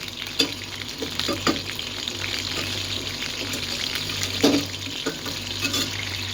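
Chicken pieces fry in a pan for a homemade meal, a steady broadband sizzle running throughout with a few sharper pops and spatters standing out, close and fairly loud with no voices.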